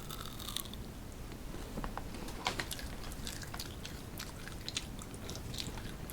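A hard, plastic-free natural chewing gum being crushed close up, giving a quiet run of irregular crunches and crackles over several seconds with no talking.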